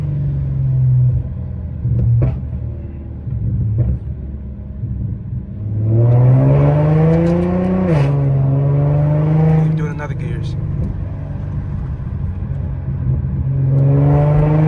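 An Infiniti with muffler and resonator deleted revving near 2,500–2,700 rpm, a loud close exhaust drone that rises and falls, with a rumbling edge as revs drop.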